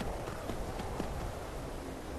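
Faint horse hooves clop at an easy pace over a steady low ambient hum in the video game Skyrim, quiet and somewhat distant, with no voices.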